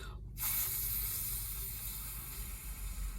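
A voice makes a sustained, steady hissing F sound to imitate air escaping from a balloon; it begins abruptly after a brief pause and continues evenly for about three seconds.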